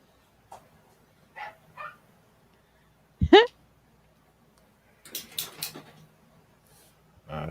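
A small dog barks in brief sharp yips at close range, a quick burst of high bark, set between quieter scattered sounds and stretches of voices.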